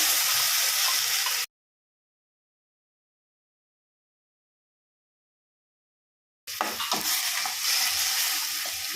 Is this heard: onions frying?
yes